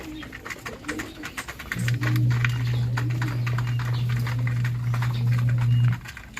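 Pigeons of a rare Philippine breed coo at an open loft, a loud, low, throaty sustained coo lasting several seconds up close, amid scattered clicks and bird rustling.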